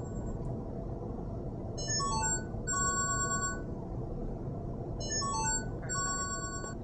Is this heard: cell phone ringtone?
yes